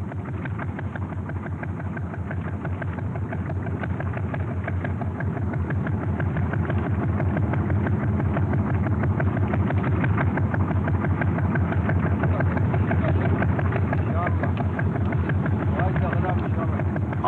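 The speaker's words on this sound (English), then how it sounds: "Power-driven canoe takes us back to Mopti." A motorized canoe engine drones steadily on the Niger River. The motor runs continuously at moderate loudness for the whole stretch with a constant rhythmic chug and no clear voices.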